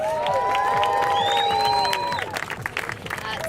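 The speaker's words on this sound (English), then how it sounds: "Let's give another round of applause." A crowd applauds and cheers with high whoops at a Jan 6 Day of Remembrance gathering; the dense ovation is loud and close for about two seconds, then thins into scattered clapping.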